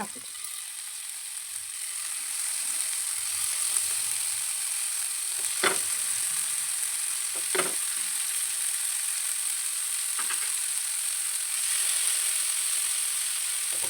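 Tandoori chicken pieces cooking in a spoonful of butter in a pan, a steady hissing sizzle with a few sharp scraping clicks of a utensil against the pan.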